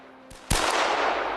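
A sharp gunshot crack is followed by a sustained noisy burst, like rapid fire or a rolling echo, from a war drama scene. A faint short knock comes just before it, and no one speaks.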